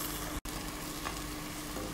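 Powdered spices (cumin, paprika and chili paprika) fry in a pan for Moroccan-Israeli shakshuka, giving a steady close sizzle that cuts out for a split second, then carries on evenly.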